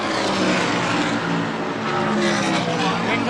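ARCA stock race cars at Pocono in 2002 roar past in a dense, continuous, loud wash of engine noise, with a race commentator's voice faintly underneath.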